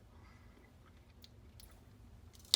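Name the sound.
tasting chicken and rice casserole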